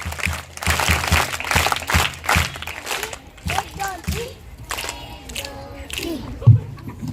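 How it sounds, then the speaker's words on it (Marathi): At a poetry recitation event, an audience breaks into a brief burst of rapid clapping that fades after a few seconds, followed by people talking. "जोरदार टाळ्या."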